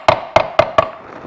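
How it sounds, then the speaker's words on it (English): A transmission main shaft gets four evenly spaced sharp metallic taps, close and ringing briefly after each strike, with no talking. "we're going to give the main shaft a little tap."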